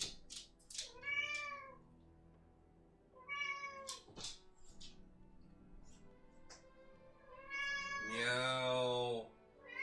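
A pet cat meows repeatedly, several drawn-out calls spaced across the stretch with a longer, louder yowl near the end, set against a quiet background.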